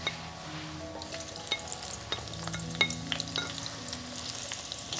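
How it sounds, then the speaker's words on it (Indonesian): Spice paste frying in hot oil for Indonesian tempeh sambal with basil, a steady close sizzle with scattered pops and stirring clinks running throughout. "kita panasin minyak terus goreng bumbu-bumbunya"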